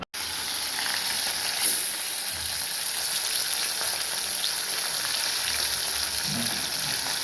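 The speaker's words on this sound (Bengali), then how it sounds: "এখন মাছগুলো ভেজে নিচ্ছে, ভেজে নিয়ে তুলে নেবে।" Fish marinated in salt and turmeric frying in a pan, a steady bright sizzle and hiss that carries on without a break, close and even throughout with a few soft pops.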